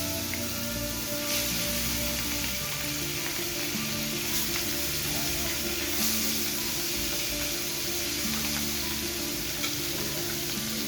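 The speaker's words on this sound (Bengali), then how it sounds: "আমি মাছগুলো ভেজে নিচ্ছি" Pieces of fish sizzle steadily while frying in hot oil for doi katla, a continuous close crackling hiss with no voices over it.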